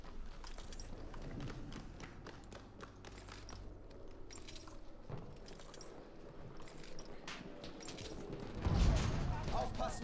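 Gunfire from a gun in the video game Battlefield 1, heard as scattered sharp cracks and bursts amid battle noise and other game sounds, with a louder close burst near the end.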